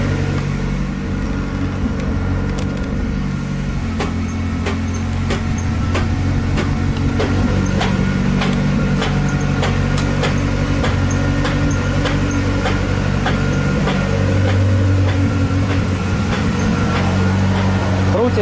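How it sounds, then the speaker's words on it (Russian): A Lada Zhiguli with a broken left rear half-axle runs with its wheels spinning, a steady engine drone under a regular, repeating knock that continues throughout. "Крутится два колеса, но стук идет именно с левой."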